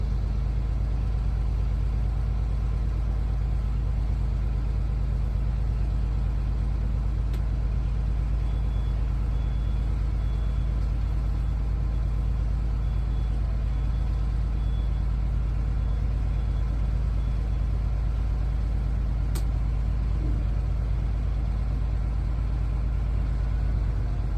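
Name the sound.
school bus engine idling, building brake air pressure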